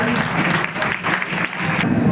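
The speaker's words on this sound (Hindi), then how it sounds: "ताली बजा दिए भाई" A small indoor group claps in a steady burst of applause at a quiz game, lasting about two seconds at fairly loud level, with no talking during it.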